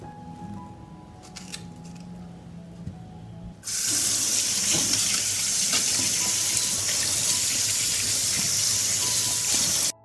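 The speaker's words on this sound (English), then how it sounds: "First, I will wash and clean the strawberries." Strawberries are washed under a running kitchen tap: quiet handling noises, then the faucet opens into a loud, steady gush of water for about six seconds before shutting off.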